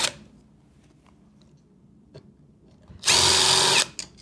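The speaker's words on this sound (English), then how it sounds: "I'll first remove the screws from this wall jack here." A power screwdriver backs screws out of a wall jack with one loud, close whir lasting under a second, following faint handling clicks and taps.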